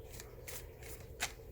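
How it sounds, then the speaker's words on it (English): Playing cards riffle and flutter during a shuffle for a tarot-style pick-a-card reading, with soft papery bursts and a sharper flick near the end as cards spill from the deck. "cards flying out"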